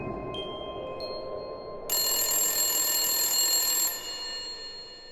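A telephone rings in a haunted-mansion setting: a steady electronic ring swells loudly for about two seconds mid-clip, set between fainter tones and a constant background hum, with no voices.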